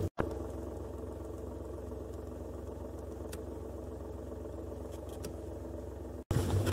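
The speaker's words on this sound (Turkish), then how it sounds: "Bakın motorun sesi değişti." A car engine idles steadily with a low, even rumble, and its tone shifts slightly partway through as the clutch engages and the car moves off; a brief cut and thump come near the end.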